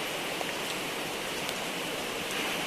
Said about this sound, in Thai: ฝนตก อยู่ไม่ได้แล้ว